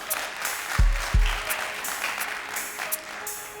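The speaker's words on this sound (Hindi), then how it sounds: "तालियां बजाएं" Studio audience on a Ramadan quiz show claps in a short burst of applause, steady and moderately close, punctuated by a few low thumps.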